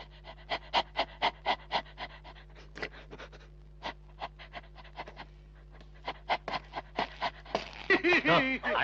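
A voice imitates a dog panting with rapid, rhythmic huffing breaths in quick bursts, pausing briefly before resuming, ending in a louder, rougher stretch.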